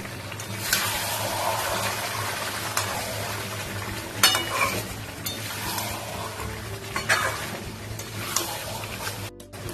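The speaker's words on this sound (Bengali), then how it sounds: "মাটনটা দিয়ে খুব ভালো করে কষবো বন্ধুরা। মাটনের চর্বিটা দিয়ে দিচ্ছি।" Mutton and mutton fat fry in a pan while being stirred, a continuous loud sizzle broken by scraping sweeps of the spoon and occasional clinks.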